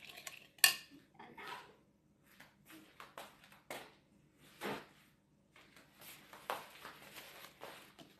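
A utensil clinks and scrapes against a bowl while a sesame oil sauce is mixed for steak, quiet irregular taps and stirring strokes close by, with no one talking.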